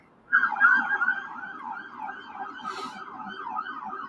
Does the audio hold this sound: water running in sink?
no